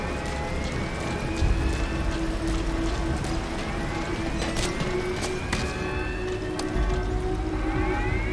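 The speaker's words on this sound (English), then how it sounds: "Caution, rain approaching." Rain falls in the video game Metal Gear Solid V as a steady wash of drops on surfaces, mixed with other game ambience and faint sweeping tones, continuous and moderately loud.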